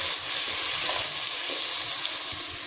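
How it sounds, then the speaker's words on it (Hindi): Onions and tomatoes fry in a pan with a steady, dense sizzle and hiss, close and loud, with faint stirring scrapes underneath throughout. "इसमें फ्राई करती हूँ।"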